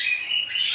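A budgerigar gives a brief, bright warbling chirp, close and clear, lasting under a second with no voices.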